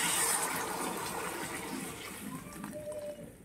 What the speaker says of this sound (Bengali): জল ঢেলে দেবো। জল দিয়ে দিচ্ছি।